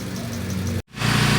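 Gasoline 4AF engine of a 1997 Toyota Corolla running steadily up close, a loud even drone that cuts out abruptly for a split second, then returns.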